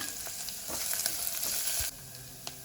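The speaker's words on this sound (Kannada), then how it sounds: "ಈರುಳ್ಳಿಯನ್ನು ಸ್ವಲ್ಪ ಫ್ರೈ ಮಾಡಿಕೊಳ್ಬೇಕು ಹಾಗೆ ಒಂದು ಐದಾರು ಬೆಳ್ಳುಳ್ಳಿಯನ್ನು ಹಾಕ್ಕೊಳ್ತಾ ಇದ್ದೇನೆ" Onion and garlic frying in a pan, a steady close sizzle with a few light stirring clinks, the hiss dropping to a quieter level near the end.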